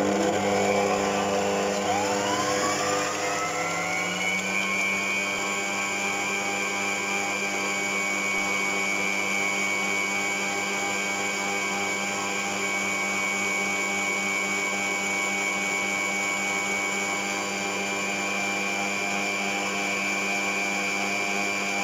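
An electric mixer fitted with a whisk beats cake batter for a raspberry roll cake, giving a steady, loud motor whine that climbs in pitch during the first few seconds and then holds evenly throughout.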